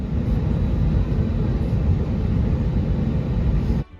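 Steady, loud roar of a jet airliner's engines, constant broadband rumble for several seconds, then cutting off abruptly near the end.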